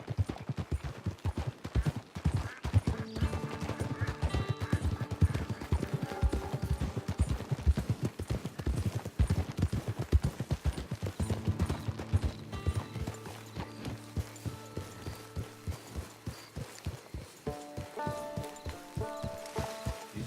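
Horse hooves clip-clop steadily in the Red Dead Redemption 2 video game, a continuous rhythmic clatter of footfalls under a quiet background score, with an occasional snort or whinny.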